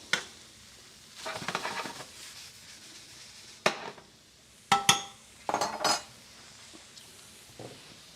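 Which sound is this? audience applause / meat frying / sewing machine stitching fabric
meat frying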